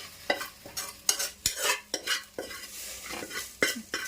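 Okra being stir-fried in a pan, with repeated scraping and clacking strokes of a spatula over a soft sizzle, close and irregular.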